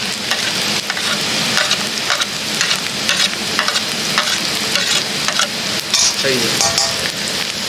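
Chili, ginger and garlic sizzle steadily in hot oil for a mutton curry, a dense continuous crackle with occasional stirring scrapes, loud and close throughout.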